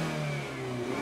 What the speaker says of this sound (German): zurück zum Auspuffklang, stellen wir auf Normal und jetzt wird es ein bisschen leiser.